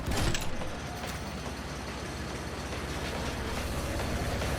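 A train running in the video game Atomic Heart: a steady, loud rumbling roar with metallic clatter that holds evenly throughout, with no talking.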